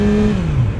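A 2018 Yamaha R6 motorcycle engine roars loud and close, its pitch sliding down briefly as it shifts between gears while accelerating.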